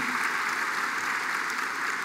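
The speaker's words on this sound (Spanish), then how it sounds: "Un aplauso y una felicitación" An audience at a Tlaxcala government event for the 2015 social infrastructure program applauds, a steady, fairly distant wash of clapping that holds evenly for the whole stretch.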